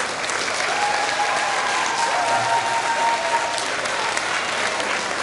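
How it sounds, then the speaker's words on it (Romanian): Steady audience applause fills the hall at a Romanian folk festival competition in Satu Mare county, a dense, even clapping wash lasting throughout with no break. "Măcar aplauze pentru Cunița Nazdorana Satu Mare și Vasile Lucaciu și Șești."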